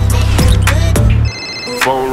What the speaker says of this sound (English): Phone ringing off the hook, man